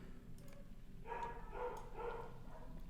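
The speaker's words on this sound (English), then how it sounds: "Oh, my neighbor's dogs are home." A neighbor's dogs barking in the background, several muffled barks in a loose sequence, fairly faint and distant, as if heard through a wall.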